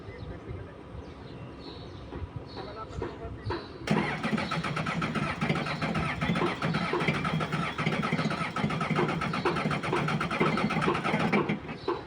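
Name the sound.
engine starting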